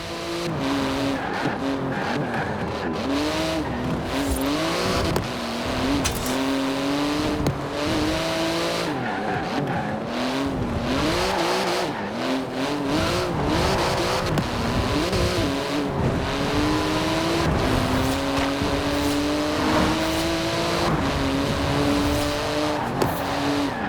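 A Porsche GT2 RS race car in the video game Forza Horizon 4 roars continuously at high revs, its engine pitch climbing and dropping through gear changes, with tyre squeal and skidding mixed in, loud and close throughout.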